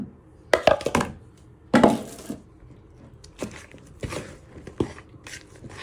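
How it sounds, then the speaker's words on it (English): A spoon stirs cake batter made with eggs and baking powder in a bowl, giving a few sharp knocks and scrapes in irregular bursts with quiet gaps between. "So you're just going to give this a good stir."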